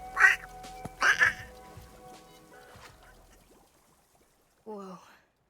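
A person imitates a duck with their cheeks, producing two short nasal quack-like bursts close to the microphone, then a pause and a softer third squeak near the end.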